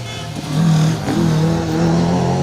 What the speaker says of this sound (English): Dick Major has got the Palmer-Smith Corsa all over its boot lid